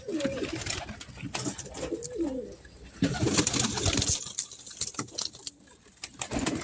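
Pigeons coo close by in repeated soft, throaty phrases, several calls overlapping with light fluttering and pattering in the background.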